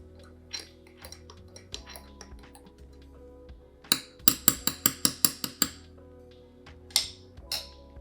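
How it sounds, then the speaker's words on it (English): A spoon stirring a salted caramel mocha in a glass, with a fast run of bright clinks against the glass, then a few scattered taps, close and clear. "I'm gonna give this a good stir"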